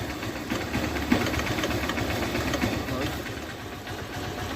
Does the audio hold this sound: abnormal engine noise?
yes